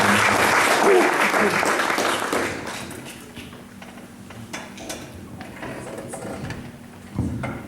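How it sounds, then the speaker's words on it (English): A burst of loud applause at a talk and concert fills the first few seconds, then fades into quieter room noise with scattered taps and a voice. "Here we have a round of applause"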